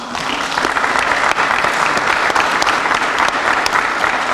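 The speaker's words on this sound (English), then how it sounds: "let's give you a round of applause" Audience at a press event breaks into a steady round of applause, dense and even clapping from a crowd heard close throughout.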